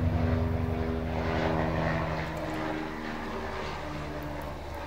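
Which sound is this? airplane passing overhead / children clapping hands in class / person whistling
airplane passing overhead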